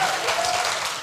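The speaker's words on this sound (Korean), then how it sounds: "박수 받으셨으니까 한번 얘기해 보세요." Brief burst of audience applause at an education forum panel, a short wash of clapping from a seated crowd, moderately loud and steady for about a second.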